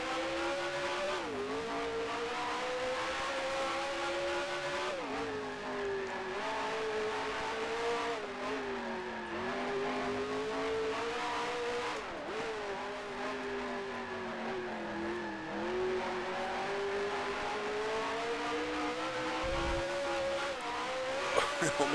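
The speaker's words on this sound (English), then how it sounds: "Second gear again there, just getting up to third for a second, and then back down into second." Racing engine in the Grand Prix Legends sim howls and shifts pitch as gears change, rising and falling repeatedly, with tires squealing through slow corners; a voice talks over it at times.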